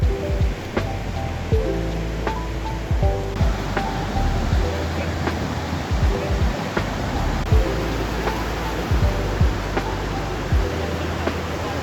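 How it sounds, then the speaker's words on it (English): Heavy Atlantic roller waves surging onto a beach by a seaside promenade, a continuous loud wash of surf with rising and falling pulses, sounding nearby. "You'll find some heavy roller waves here."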